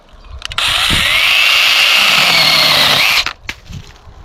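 A Parkside pruning saw from Lidl cuts through a thin branch with one loud, sustained high-pitched motor whine lasting about two and a half seconds, then stops abruptly, followed by a few faint clicks and handling sounds.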